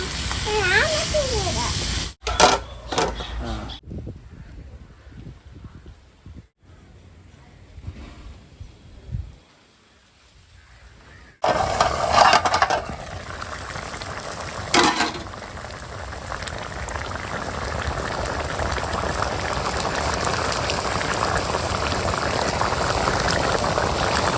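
Water poured into a pot of biryani being cooked, a steady loud hissing, bubbling rush that runs for long stretches, with a quieter gap in the middle and people talking at points.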